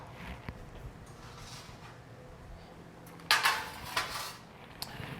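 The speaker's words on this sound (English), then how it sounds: "So we're gonna place those in a little bread bowl" Soft clatter of dishes in a kitchen as biscuits are set into a small bread bowl, a few light knocks and clinks after a quiet stretch, close and faint with no talking.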